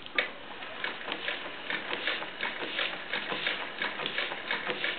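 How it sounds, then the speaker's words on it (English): A Consew 225 walking foot sewing machine fitted with a servo motor stitches steadily, giving a fast, even mechanical patter of needle strokes at moderate volume with no voices. "This machine is a Consew 225"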